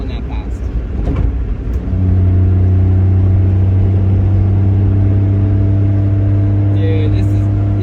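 A Honda Beat scooter cruising at about 50 mph through a canyon, its engine a steady loud drone with strong rumble and wind, rising at the start then holding constant; voices talk over it.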